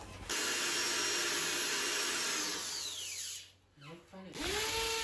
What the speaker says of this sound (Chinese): 这个电钻带冲击的话还是好用。